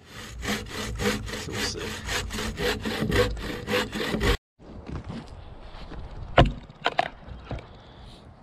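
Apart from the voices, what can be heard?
bow saw cutting log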